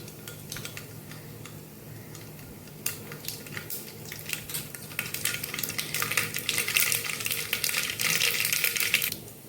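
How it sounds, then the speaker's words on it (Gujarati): Mustard and cumin seeds crackle and pop in hot oil in a pressure cooker, a dense scatter of sharp little snaps that grows busier and louder toward the end. "જો જીરું રાઈ બે ફૂટી ગયું છે કુકરમાં તેલમાં"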